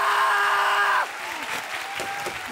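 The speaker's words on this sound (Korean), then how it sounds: "박수 주세요" Studio audience applause at a Korean stage comedy show, starting after a brief sustained tone and continuing as a broad, steady clatter of clapping with a few louder bursts, some voices mixed in.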